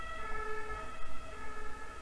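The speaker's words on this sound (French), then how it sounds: "j'ai une sirène de police qui vient de passer" A police siren passes outside, its steady wailing tones clearly audible and fairly loud throughout, with faint road traffic underneath.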